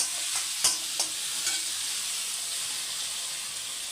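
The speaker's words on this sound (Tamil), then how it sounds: "தக்காளி இஞ்சி பூண்டு அரைச்சது எல்லாம் போட்டு வதக்கலாங்க" Tomato and ginger-garlic paste sautéing in a pan for chana vadacurry, a steady hiss with a few stirring clacks near the start, heard close and alone.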